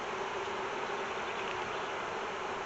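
Honey bees swarm around an open beehive whose frames are full of nectar, giving a dense, constant, fairly quiet buzzing hum with no other sounds.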